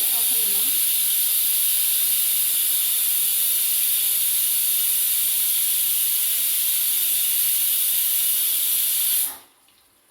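A pressure cooker whistles on a stove while chicken biryani cooks, one long loud steady hiss of escaping steam that holds for about nine seconds and then cuts off sharply.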